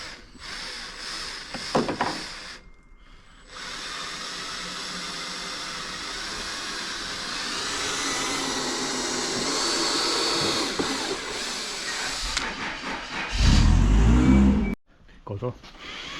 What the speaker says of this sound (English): we're trying to put 4 bolts down through the timber